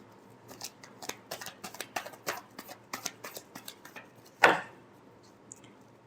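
Tarot cards shuffled by hand in a quick run of soft riffling snaps and flutters, ending in a louder single slap as the deck settles, with quiet afterward.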